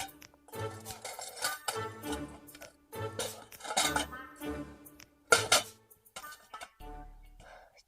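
A pile of dishes, pots and cutlery is being handled for washing, making repeated metallic clanks and clinks in uneven bursts. The sound is close, with a few brief sharper clatters.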